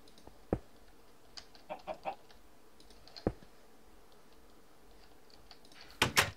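Chicken in the video game Minecraft giving a few scattered, faint clucks and clicks over quiet background, ending in a louder double burst.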